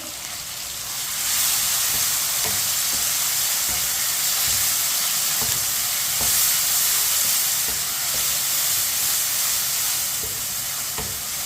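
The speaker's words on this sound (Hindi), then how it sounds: "इसे 3 मिनट के लिए पका लेंगे टमाटर को" Finely chopped tomatoes and green chilies cook in a pan over browned onion and garlic, giving a steady close sizzle with occasional soft stirring clicks, with no voices.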